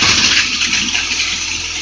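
Water gushes from an opened valve in camper plumbing during winterizing, a loud, steady hissing rush close by that holds for the whole moment without a break.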